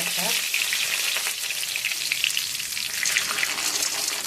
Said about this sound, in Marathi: एक चमचा मोहरी टाकली एक चमचा जिरे टाकले